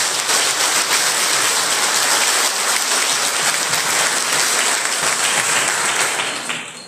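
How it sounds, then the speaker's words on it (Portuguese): Sustained applause fills a chapel during a bishop's first visit to the São Pedro church in Bezerros, Pernambuco. The dense, rain-like clapping stays loud and steady, then fades slightly at the end. "Uma salva de palmas."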